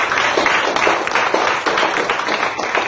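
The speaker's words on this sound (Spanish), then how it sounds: "Dale un aplauso al Señor en esta mañana" A church congregation applauds in praise during a Spanish-language service: steady, dense clapping that holds evenly throughout without a break.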